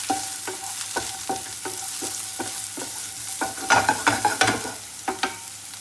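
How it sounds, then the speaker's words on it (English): Carrots sautéing in olive oil in a pan give a soft, steady sizzle, with repeated scraping and stirring strokes at a regular pace, denser toward the end, and no voices. "Add a little bit of olive oil to the pan. And we're going to saute off the carrots."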